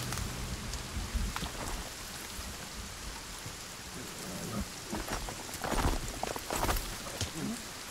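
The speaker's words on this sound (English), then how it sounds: "It's raining." Steady rain pours throughout in the survival game Sons of the Forest, a dense hiss with scattered heavier drops and patters that swell louder toward the end.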